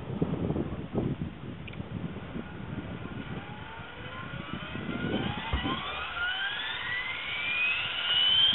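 Align Trex 550E electric RC helicopter spinning up in the countryside, a rising whine climbing steadily in pitch over several seconds with a low rotor rumble underneath, loud and close.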